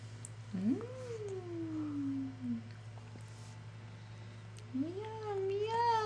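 A house cat meows twice in long, sliding, drawn-out cries near a baby being fed rice cereal, with a steady hum underneath and soft voices nearby.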